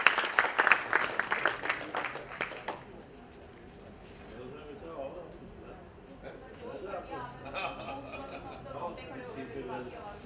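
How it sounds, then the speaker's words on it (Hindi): Applause from an audience welcoming a guest onto the stage at a gathering, loud dense clapping for the first three seconds, then fading into a murmuring crowd with scattered voices. "तालियों से स्वागत है सर आपका।"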